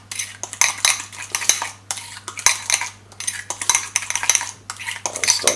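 A dish with a wedge of lemon added is stirred briskly with metal cutlery, giving repeated close scraping and clinking against the pan in an irregular rhythm, with no talk.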